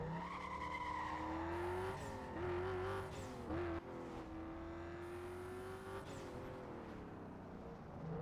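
Bugatti Veyron Super Sport engine in a racing video game, a steady droning hum that rises and dips in pitch with revs and shifts, with brief tire squeals, fairly quiet.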